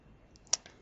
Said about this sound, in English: Now, double click on him.